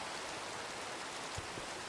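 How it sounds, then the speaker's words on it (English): Steady rain hisses in a modded Minecraft world on a rainy evening, an even, continuous wash of falling water with no voices, faint and unbroken for the whole two seconds. "it's a very rainy evening"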